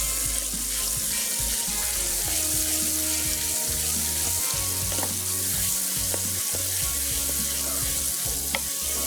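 Ginger masala mutton chops fry in a pan with a loud, continuous sizzle and crackle, broken by occasional clinks and scrapes of stirring, close up with no talking.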